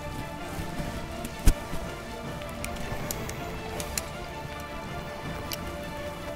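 Steady rain patters on vegetation outdoors during a search for an asp viper, a continuous soft hiss with scattered drop ticks and one sharp tap, no speech.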